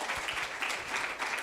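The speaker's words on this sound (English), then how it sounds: "Round of applause for Tony." An audience at a film festival kickoff gives a brief round of applause, a close, dense wash of clapping that holds steady for a moment.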